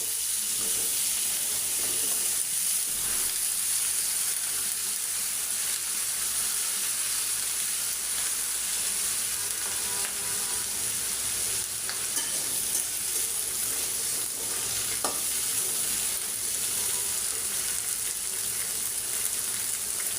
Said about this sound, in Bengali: এখন আমি বেগুন আর সিমগুলো একবার ভাজতে নেব একই কড়াইতে